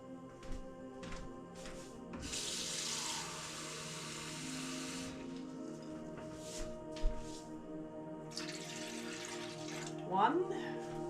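Water pours steadily into a mixing bowl for pizza dough for a few seconds, a soft hissing splash amid quieter kitchen clatter and light background noise.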